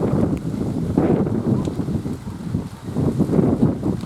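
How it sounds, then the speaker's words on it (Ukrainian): Strong wind with rain buffets the microphone in rough, rumbling gusts, rising and falling for a few seconds with no voices. "Вітер із дощом."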